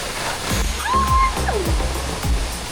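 A waterfall on Crete, Greece roars in a steady rushing wash, close and constant, with a few brief whistling or squeaking sounds layered over the water.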